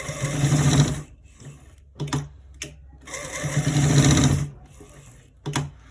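Sewing machine stitching a trouser right front pocket from top to bottom, running in several bursts of rapid mechanical whirring separated by short pauses, near and clear.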